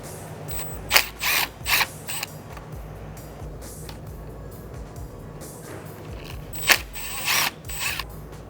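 A ratchet unscrews T30 Torx screws from a Porsche Cayenne radiator, giving quick bursts of close clicking in two separate groups with a quieter stretch between them.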